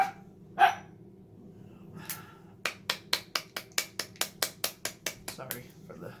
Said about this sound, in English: Sorry for the loud shaking.